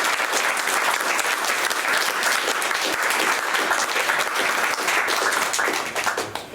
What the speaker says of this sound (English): first a round of applause for our speakers